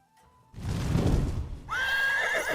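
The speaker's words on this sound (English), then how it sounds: "I hear horsey sounds." Horse neighing in the game Battlegrounds, a loud whinny that rises after a short burst of game noise and carries on steadily to the end, with no talk over it.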